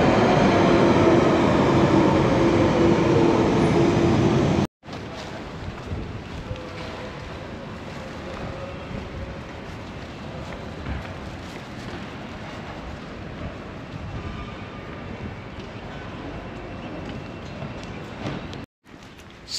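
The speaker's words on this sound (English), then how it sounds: "There's a train coming" A loud, rushing train roar with heavy wind buffeting, then a steadier rumbling rail noise continuing at length, close and sustained.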